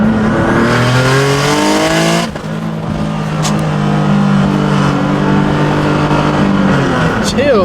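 Turbocharged Nissan 370Z Nismo with its VQ V6 revs hard and loud, its rising and falling harmonic whine sweeping up and down through several pulls close to the listener, with a brief dip before the revs climb again.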